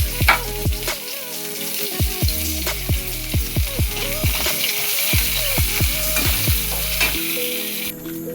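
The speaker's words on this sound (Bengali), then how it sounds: "এদিকে কড়াইতে আমি দিয়ে দেবো পেঁয়াজ কুচি," Chopped onion fries in a wok with a strong, steady sizzle, while a spatula scrapes and stirs in a fairly regular rhythm, close and loud, with no voices.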